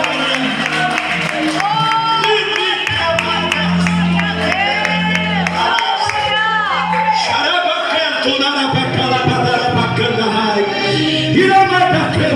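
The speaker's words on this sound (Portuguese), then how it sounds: "E só você que crê, aplaude o nome de Jesus bem forte." A church congregation applauds and cheers loudly during a worship service, with sustained clapping, shouts and whoops, and music playing throughout.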